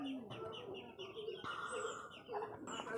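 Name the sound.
racing pigeons cooing in loft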